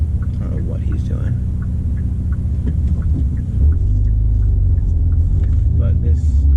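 A Hyundai Veloster N cruises along the road with a steady low engine rumble and road hum that deepens and swells partway through, heard from inside the car.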